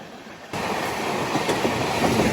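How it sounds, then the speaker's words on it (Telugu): The Rajarani Express passes close by on the adjacent track with a sudden loud rush, then a steady rumble and rhythmic clatter of wagons, no voices. "రాజారాణి ఎక్స్ప్రెస్ క్రాస్ ఓవర్."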